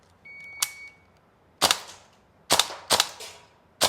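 Tokyo Marui AKM gas blowback airsoft rifle fires four separate sharp shots, each a crisp snapping crack with a short gassy tail, irregularly spaced over a few seconds against a quiet background.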